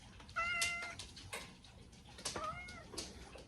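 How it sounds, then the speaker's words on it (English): A cat meows twice, short rising calls close by, with quiet rustling background and no talk. "Busy cat. Oh, and there's Tammy cat."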